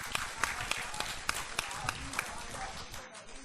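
An audience at a Punjabi poetry gathering breaks into scattered applause, a few sharp claps standing out over a looser patter of hands, with speech mixed in at moderate volume.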